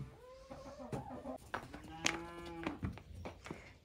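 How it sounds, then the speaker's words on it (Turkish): Cows on a farm moo in several drawn-out, loud calls at close range, overlapping with occasional chicken clucks and brief background voices. "Şimdi de sıra geldi inekleri dışarı çıkarmaya."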